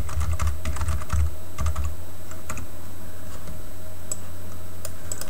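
Quick bursts of typing on a computer keyboard for a telnet session to a Raspberry Pi, close and crisp, fading into a few sparse clicks and quiet room hum.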